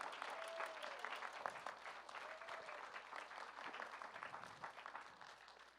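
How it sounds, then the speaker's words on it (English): An audience claps steadily in a room at a symphony orchestra concert, sustained applause that stays fairly even before slowly thinning toward the end. "I'd like to give them a round of applause for their work."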